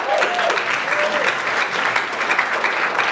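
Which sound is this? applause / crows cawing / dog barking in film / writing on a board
applause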